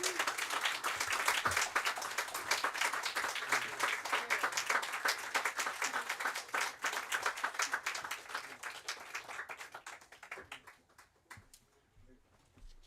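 A live audience applauds after a poetry reading, a long close stretch of dense clapping that thins and fades to scattered claps toward the end.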